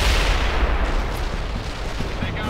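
Dense, rumbling rocket fire and explosions in World in Conflict: Soviet Assault, a continuous low roar of battle near and heavy throughout with no clear voices.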